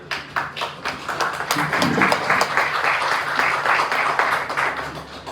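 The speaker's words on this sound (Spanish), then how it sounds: "Y igual pido un fuerte aplauso." Applause from a lecture audience at a conference on Octavio Paz, a steady wash of many hands clapping that builds and holds for several seconds, with no talking over it.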